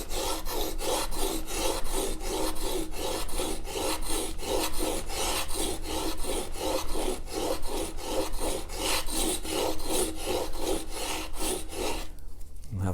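A chisel sharpened by hand on a stone, giving a steady, rhythmic rasping scrape, close and continuous for about twelve seconds before stopping abruptly.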